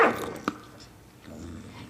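A dog growls with a low, rumbling snarl, along with a brief sharp yelp-like sound early on, fairly close and heard alone.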